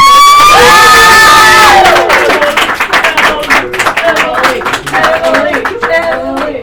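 A live audience at a poetry evening cheers, whoops and claps loudly for a poet coming up, a high cry fading into dense applause and shouts that gradually thin out.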